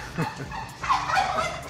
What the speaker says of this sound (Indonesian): Nah itu suara kalkunnya.